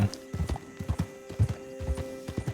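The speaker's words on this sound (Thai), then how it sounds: "ขี่ม้ากับบ้านนะครับ" Horse hooves clip-clop at a steady trotting rhythm while riding in Red Dead Redemption 2, with close, crisp hoof strikes in clusters over a low constant hum.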